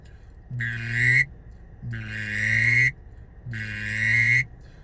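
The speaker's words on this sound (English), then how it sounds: "finish those birds with the Drake whistle. So what I typically do, just a subtle call" Three evenly spaced, fairly loud drawn-out calls from a drake whistle duck call, used as subtle finishing notes for heavily pressured ducks, each lasting under a second with short pauses between.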